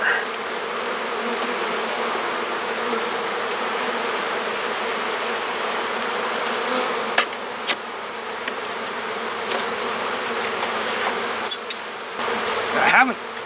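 Steady, dense buzzing of many honeybees close by, continuous throughout, with a few brief knocks and rustles near the end.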